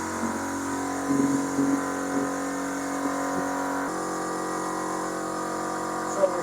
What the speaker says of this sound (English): the air compressor makes noise, so you may hear a slight noise.